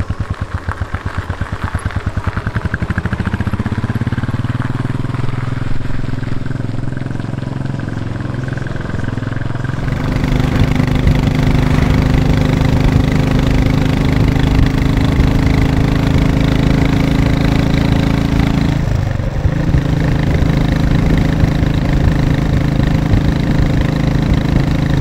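Royal Enfield 500 Bullet Classic with its long-stroke single-cylinder engine, running steadily and close by, a low thumping drone that rises in intensity partway through and holds on alone without talk.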